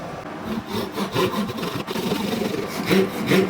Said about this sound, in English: All right, back to the vise to get this thing cut.